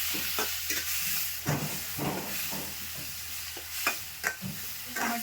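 Onions and tomatoes fry in a pan, a constant hissing sizzle broken by several bursts of spatula scraping and stirring, fairly close and without speech.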